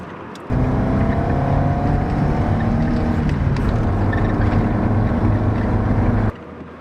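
A BMW E30's engine drone starts abruptly, holds a constant low rumble for several seconds with some wind noise, then cuts off suddenly.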